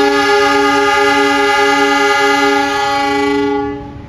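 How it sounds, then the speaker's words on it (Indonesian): A loud, sustained horn from the Jayakarta train, a vintage locomotive-hauled service in Indonesia, blasts steadily for about four seconds, rich and harmonic, then cuts off. "kereta api Jayakarta telah dibunyikan"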